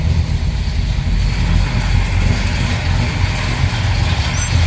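A warmed-up 1970 Pontiac GTO tribute with a floor shifter idles steadily, heard from outside the car as a loud, constant low rumble with no voices over it.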